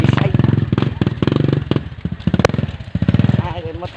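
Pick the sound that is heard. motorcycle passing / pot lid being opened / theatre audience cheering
motorcycle passing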